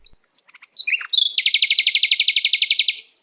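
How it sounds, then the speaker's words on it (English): A Rufous Potoo bird call: a few soft high notes build into a rapid, even trill of about twenty clear pulses, loud and close, with no voices. "next up here we got the Rufous Patoo"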